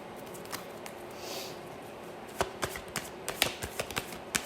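Tarot cards handled and drawn: a soft, faint rustle of cards, then a quick series of light snapping flicks and taps as cards are pulled and laid down, close and quiet.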